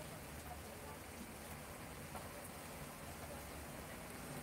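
Rain falls steadily outdoors in the Netherlands, a soft, continuous, even hiss of drops on surfaces that continues throughout with no distinct breaks.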